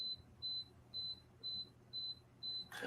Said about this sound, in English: That's the dehumidifier. Okay. Telling us it's full. That beep, beep, beep.